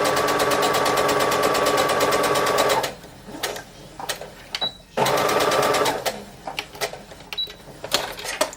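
A sewing machine stitches thin fabric in fast, steady bursts: a dense, continuous whir for about three seconds, then a shorter run, with quieter handling clicks between.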